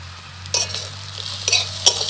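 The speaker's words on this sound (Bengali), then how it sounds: "ডিমের ভুজিয়া যেভাবে তৈরি করি ঠিক একইভাবে ডিমটাকে এভাবে ভেজে নিচ্ছি।" Egg frying in a pan with turmeric, cumin, chilli powder and slit green chillies, soft sizzle under brief scraping stirs, three or four sharp spatula strokes against the pan.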